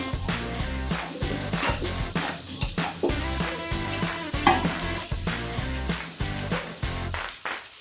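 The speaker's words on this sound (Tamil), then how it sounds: "போட்டுட்டு நல்லா வதங்கட்டும்" Green chillies and capsicum sizzle and fry steadily in a hot pan, with repeated scraping stir strokes cutting through the continuous loud crackle, no voices.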